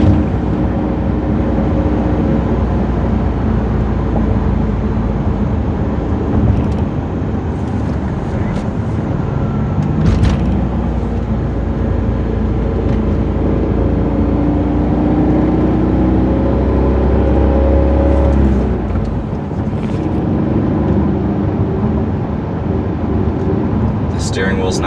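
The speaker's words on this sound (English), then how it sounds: "So far the car drives great, shifts nice and smooth." A stock Cadillac CTS-V with a manual transmission on a test drive gives a steady, loud engine and road drone inside the cabin, running continuously under someone talking.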